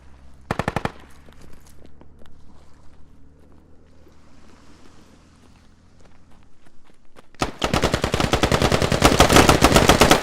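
Rifle fire in the tactical shooter Squad (v10): a short sharp burst rings out early, then after a quiet stretch with faint movement a long sustained volley of rapid automatic shots hammers loudly to the end.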